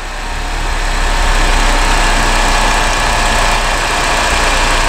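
A car engine starts cleanly with a healthy starter motor, then idles steadily and loudly close by, a dense, constant drone with a low rumble, heard during a battery and starter test.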